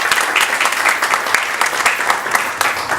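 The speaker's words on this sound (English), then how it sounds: "So just a round of applause for Dr. Ali." Audience applause for a panelist at a 2018 entrepreneurship panel in Washington, DC, a steady round of clapping from a conference crowd, fairly loud with no talk.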